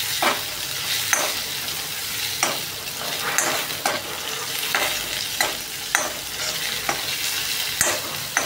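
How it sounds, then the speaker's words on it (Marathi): Shredded cabbage fries in a pan while a spoon stirs it, with a constant sizzle broken by regular scraping strokes about once a second and no voices. "हे झाल्यावरती आता पत्ता गोबी टाकूया. चला त्याला हलवतच राहू आपण जोपर्यंत शिजत नाही ते नीट."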